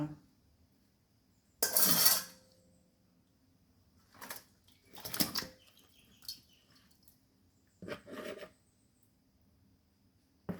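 Sour fermented fish is tipped out of its container into a basin, making a few separate bursts of scraping and clattering with quiet pauses between them, close by and moderately soft.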